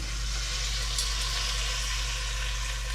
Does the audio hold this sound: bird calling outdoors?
no